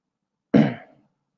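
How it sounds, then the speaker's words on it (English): A single short throat-clearing cough from a person who has been sick bursts out close by, then fades quickly into silence. "excuse me for coughing and clearing my throat"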